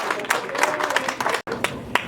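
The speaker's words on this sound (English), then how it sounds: "Please make a round of applause and give her a warm welcome." An audience claps to welcome a performer at a Black History Month presentation, with moderate, uneven hand claps continuing throughout and a momentary break midway.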